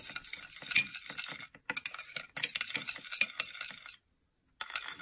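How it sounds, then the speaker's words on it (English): Tomato, avocado and cucumber salad with chili flakes, salt and black pepper tossed in a bowl, giving rapid clicking and scraping strokes in bursts, close up, with a brief pause near the end. "Mix everything well."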